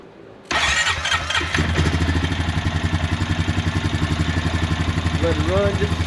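A Honda Rancher EFI ATV engine cranks briefly, catches after half a second and settles into a steady, rhythmic idle with a regular putter, close and loud, a faint chirp near the end.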